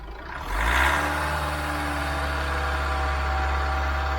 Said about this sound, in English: Got a lot of rattly, tappety type noise and a bit of motor shake on it.